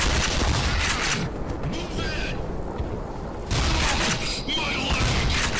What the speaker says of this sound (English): How many times do I have to shoot you?